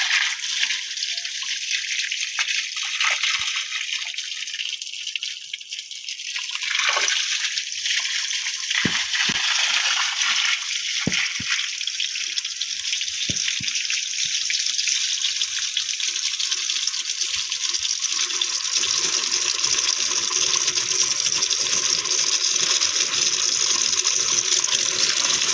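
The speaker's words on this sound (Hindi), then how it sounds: "ये देख लें, इसमें सबमर्सिबल चल रहा है।" Water from a running submersible pump gushes and pours loudly and continuously, a steady broad rushing splash used for washing solar panels, close by and uninterrupted throughout.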